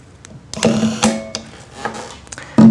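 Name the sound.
tightening 4-40 screws on an optical encoder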